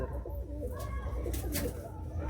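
Pigeons coo softly in a loft in Chandipur, Medinipur, with low, repeated throaty calls over a steady murmur of birds close by.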